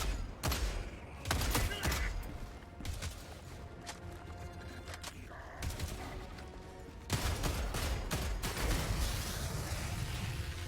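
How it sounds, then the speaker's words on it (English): Shotgun blasts ring out in Helldivers, several loud, separate bursts spaced irregularly across the stretch amid battlefield noise, with no talking. "I love the shotgun."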